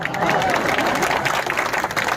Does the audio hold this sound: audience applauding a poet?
yes